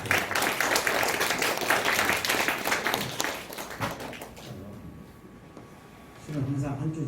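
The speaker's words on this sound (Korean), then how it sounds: "우리 사랑의 박수로 함께 보시기 바랍니다." A church congregation at a Sunday worship service applauds together in a dense, sustained burst. The clapping fades as a voice begins speaking and continues in the background.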